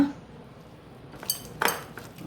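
Leftover idli batter is stirred with onion, curry leaves and coriander in a bowl, with quiet scraping followed by a few sharp clinks of a spoon against the dish.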